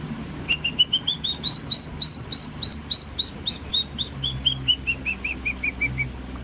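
A person whistles an imitation of a mangrove black hawk's call: a long series of about twenty-five quick, high, evenly spaced piping notes that rise then slowly fall, clear and close with no talking.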